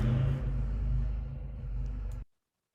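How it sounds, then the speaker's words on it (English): Low steady rumble of car traffic in the background, a continuous engine drone with a brief rise, ending abruptly in silence. "I'm not used to all that car noise in the background"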